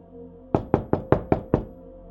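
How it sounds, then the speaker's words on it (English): Six sharp knocks on a door in a steady, evenly spaced rhythm, close and distinct against a quiet background. "Around 3 a.m., a knock sounded at the door."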